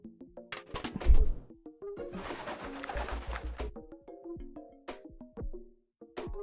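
Pigeons in the video game Deponia coo in short repeated throaty calls with pauses between, close and clear, with a burst of noisy rustle in the middle.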